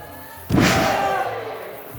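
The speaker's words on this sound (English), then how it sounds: "Big suplex there by Lykos." At a pro wrestling event, a wrestler is slammed onto the ring by a suplex, giving one loud, booming thud whose rumble trails off over a second amid crowd noise, with a commentator talking.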